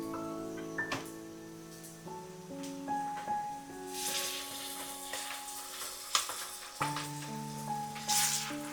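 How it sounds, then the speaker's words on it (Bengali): Ginger garlic paste fries in hot oil in a pan, with browned onions, while cooking duck curry. A steady soft sizzle runs throughout under background music, with occasional stirring scrapes. "একটু ভেজে নিতে হবে আদা রসুনের পেস্ট"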